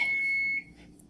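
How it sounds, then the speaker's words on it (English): A kitchen timer alarm gives a single steady electronic beep lasting about half a second, loud and close, before cutting off into quiet room tone. "Turn off my alarm over here, my timer."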